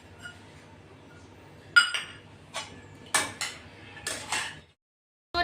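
Poha being mixed in a pan with coriander leaves, a spoon scraping and clinking against the metal in several sharp, separate strikes, close and clear, with a quiet pause before one last knock.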